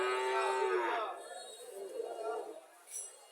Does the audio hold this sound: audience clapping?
no